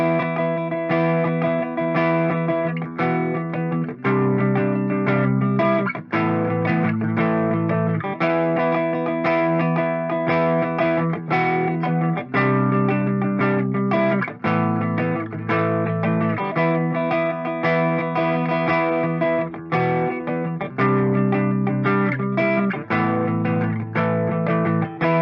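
Loud, sustained electric guitar chords through a Headrush Prime patch with fuzz, overdrive and delays, drenched in distortion and modulation, changing in a steady repeating pattern with no voices.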